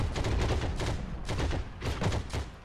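Maxim machine gun fire on a bridge in Heroes and Generals, rapid sustained bursts with heavy low thumps, loud and close, broken by brief pauses.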